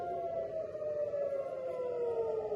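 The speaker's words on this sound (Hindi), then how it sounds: "आप सायरन सुन सकते हैं।" A civil defense siren wails steadily from a distance in Tel Aviv during an Iranian missile attack, one long tone that slowly falls in pitch, with no voices.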